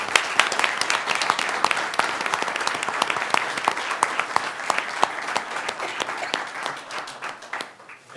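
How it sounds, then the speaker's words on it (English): Round of applause from an audience at a city council reorganization meeting, many hands clapping in a dense burst that holds steady and then tapers off toward the end. "So a round of applause for all these people"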